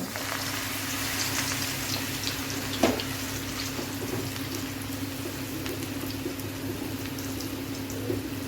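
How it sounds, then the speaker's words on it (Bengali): Coriander leaf fritters frying in a pan of hot oil, a dense continuous crackling sizzle like light rain, steady and close, with one brief knock and no voices. "এই তেলগুলোর মধ্যে ধনিয়া পাতার চপ বানিয়ে নিব।"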